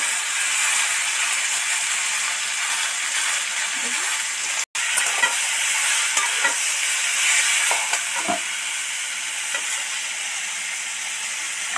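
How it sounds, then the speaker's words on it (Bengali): Boiled hog plum (amra) sizzles and fries steadily in a hot pan, a dense continuous hiss with faint stirring clicks and one brief dropout midway, no voices. "এবার সিদ্ধ করা আমড়াটা এর মধ্যে উঠিয়ে দেবো"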